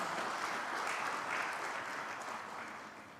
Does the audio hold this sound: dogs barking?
no